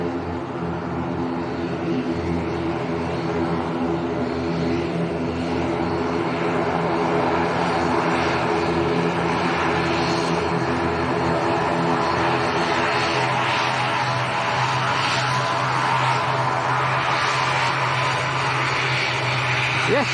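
An Avro Anson propeller aircraft taxiing at Leeds Bradford Airport to backtrack along the runway, its engines giving a steady, loud droning hum with throbbing propeller tones that shift slightly in pitch midway.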